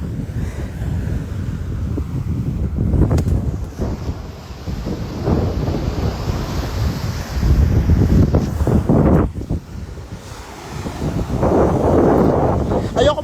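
Sea waves wash against the shore under strong, steady wind buffeting the microphone, with surges of surf rising and falling throughout; voices are faintly present beneath the roar.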